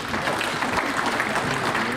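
A convention audience at a department gathering gives a round of applause, steady dense clapping filling the room at moderate loudness, with some voices mixed in beneath.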